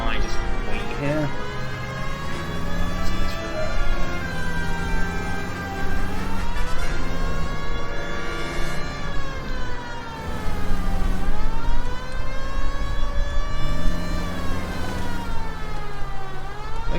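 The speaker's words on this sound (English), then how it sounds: "I probably should use the sirens a lot more if I don't want to, like, get hit" Wailing police car siren from the L.A. Noire video game, sweeping steadily up and down in long repeating cycles, loud and continuous throughout, with engine noise beneath and a voice speaking over it.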